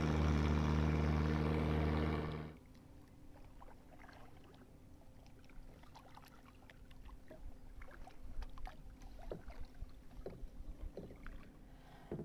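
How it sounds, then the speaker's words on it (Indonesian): A boat engine drones loudly for a couple of seconds, then cuts off, leaving faint wind and scattered small knocks and splashes. "datang lagi perahu"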